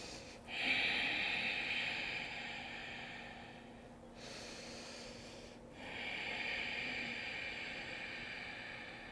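Deep, audible yoga breaths, a long hissing inhale and exhale followed by another, drawn slowly through the nose and close up with no talking.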